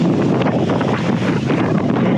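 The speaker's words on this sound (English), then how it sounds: "we're getting some serious gusts at the front of this" Strong wind buffets the microphone in heavy gusts at the leading edge of a rainstorm, mixed with rushing water against a moving sailboat in the Whitsundays, loud and continuous throughout.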